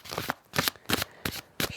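A deck of tarot cards is riffle-shuffled right up against the microphone, five quick crisp bursts of fluttering card slaps in a steady rhythm.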